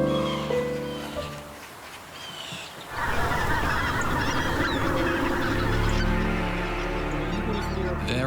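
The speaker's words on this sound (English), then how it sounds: "The cranes like to fly there to feed because there are lots of spots where the water hasn't frozen over." Cranes call in a loud, dense flock chorus at a winter feeding spot where patches of water stay unfrozen, overlapping honking cries from many birds rising sharply after a few seconds and continuing throughout.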